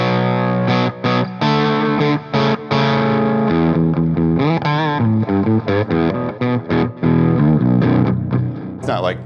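Electric guitar through a MESA/Boogie amp, tight yet hairy and gainy, plays a fluid distorted lead line with bends and quick note runs, loud and up close with no talking.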